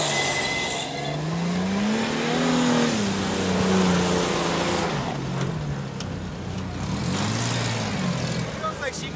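An old GMC Jimmy engine revs loudly up and down in rising and falling sweeps, close and sustained, with some tire noise and people talking underneath.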